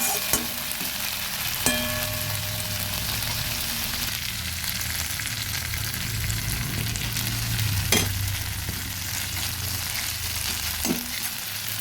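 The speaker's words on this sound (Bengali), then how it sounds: "আদা রসুন পেঁয়াজ কুচি সব সুন্দরভাবে ভেজে নিয়েছি" Chopped ginger, garlic and onion fry in a pan with a steady, close sizzle that fills the whole stretch, broken by a few sharp clinks and stirring scrapes.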